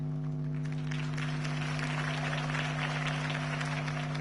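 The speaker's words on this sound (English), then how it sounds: "If only Mr. Wayne, my campaign's largest backer, could have heard that applause" Crowd applause in the Batman Telltale video game, a steady wash of clapping lasting several seconds over a constant low musical drone, with no talking.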